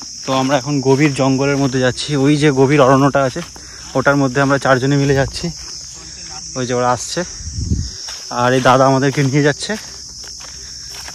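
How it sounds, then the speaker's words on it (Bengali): Crickets in a dense jungle keep up a continuous high, shrill chirring, loud and close, while someone talks over them and footsteps crunch along the trail. "ঝিঝি পোকার ডাকটা শুনতে পাচ্ছেন আপনারা?"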